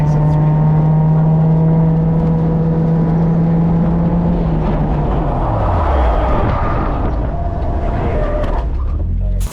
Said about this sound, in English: First ever time spinning a race car on a race circuit.